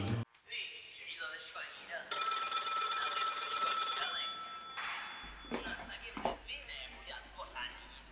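A telephone rings in a film scene, a single bright electronic ring lasting about two seconds, with people speaking quietly before and afterward.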